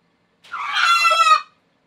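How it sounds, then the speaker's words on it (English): A chicken gives a single loud, close crow lasting about a second, alone against silence. "I can't deal with a chicken."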